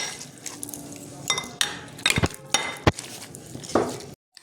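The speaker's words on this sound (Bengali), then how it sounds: "ছানার জল দিয়ে আমি একটু ম্যাশার দিয়ে ম্যাশ করে দেবো" A masher works freshly made chhena with a little of its whey in a home kitchen, giving irregular clanks and clinks against the bowl with soft squelching between, close and moderately loud.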